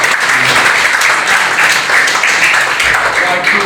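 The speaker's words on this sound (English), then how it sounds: "A round of applause, guys." An audience at a sporting legends honours event breaks into applause, steady dense clapping from a room full of people lasting several seconds at close range.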